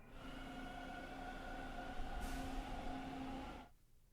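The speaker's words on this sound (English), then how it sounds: "Did I just hear a train?" A train rumbles past in the horror video game Devil's Hideout, a steady loud roar with sustained droning tones that holds for over three seconds, swells briefly, then cuts off abruptly into near silence.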